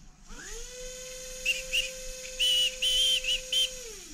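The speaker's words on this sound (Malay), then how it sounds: "Siap bersiul lagi." A high electric RC car motor whine rises and holds steady, with a thin whistling tone chirping on and off above it before winding down.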